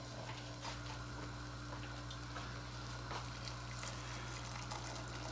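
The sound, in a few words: water poured into curry pot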